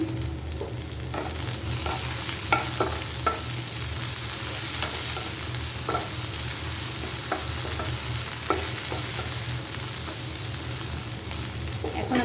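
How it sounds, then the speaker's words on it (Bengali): Ingredients for an eggplant mash frying in ghee, a constant close sizzle broken by scattered spoon scrapes and stirring knocks, with no talking. "ঘিটা দিয়ে আমি ভালো করে ভেজে নিব সব উপকরণগুলো"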